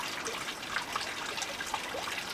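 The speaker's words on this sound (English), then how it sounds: "and let that drain out." Water trickles and dribbles steadily out of a tube pulled off a lightweight portable water filter, a close, continuous splashing drain with small gurgles and no talking.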